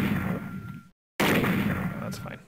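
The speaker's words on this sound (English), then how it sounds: "the last gunshot I did was up here" Gunfire from the video game Snatcher: a dense burst of shots up front, a brief cut to silence, then a second stretch of rapid firing with speech-like sound mixed in.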